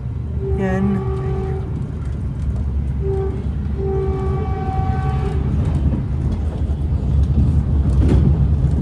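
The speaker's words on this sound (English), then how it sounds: "There you can hear the horn of our car, 308" Caltrain car 308 on a southbound express sounds its horn in a few steady, tonal blasts over the constant low rumble and rattle of the moving train, heard from on board.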